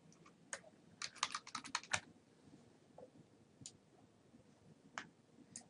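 Quiet clicking of computer keyboard keys, a quick flurry of taps in the first two seconds followed by a few sparse isolated keystrokes, close and faint with no speech.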